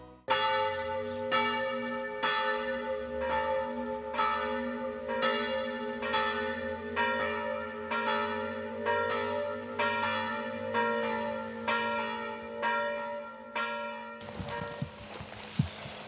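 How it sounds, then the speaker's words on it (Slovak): Afternoon church bell rings out over a village, struck in a slow, steady series of resonant tolls that hang and overlap before fading, heard alone with no voices. "hneď ju prebudí popoludnejší zvon"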